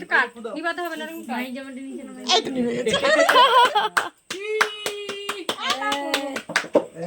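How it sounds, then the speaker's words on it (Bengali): Hands clapping at a child's birthday celebration, a rapid run of sharp claps among voices, chuckles and children talking nearby. "হাত তালে দাও হাততালি হাততালি"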